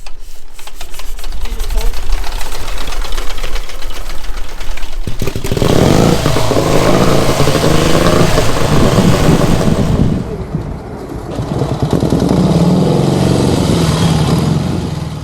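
A 1927 Douglas works race motorcycle engine runs loud and close, its harsh, rapid exhaust beat filling the clip and surging when the throttle opens midway, then briefly easing before it picks up again.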